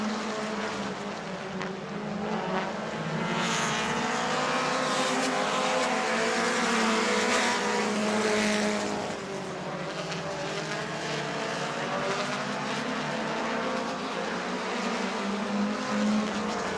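Sprint cars racing on a dirt track at Auburndale, a continuous loud engine roar rising and falling as the pack passes, close and sustained for the whole stretch with no voices.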